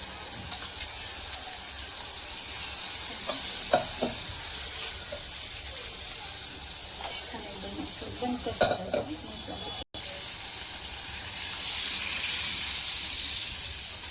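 Dal is tipped into a frying pan with coriander and stirred, giving a steady close sizzle with scraping spoon strokes and clinks, and a brief gap midway.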